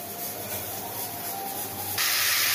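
A pressure cooker cooking chana dal with coconut hisses steam steadily, then the hiss jumps suddenly louder and brighter near the end.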